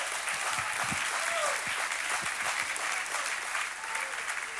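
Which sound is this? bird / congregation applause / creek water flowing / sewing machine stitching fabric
congregation applause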